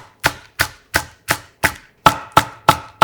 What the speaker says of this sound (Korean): 시원한 대파 잎 약간을 송송 썰어